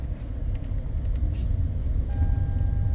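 A car with an automatic transmission rolls along the road in drive during a test drive, despite a turbine speed sensor fault and a bad oxygen sensor. Its engine and road rumble hold steady and close, with no talking.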